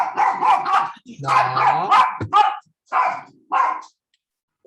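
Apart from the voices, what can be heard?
dog barking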